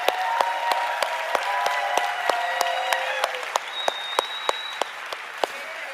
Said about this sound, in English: So nice round of applause for Steve and Gina Merritt.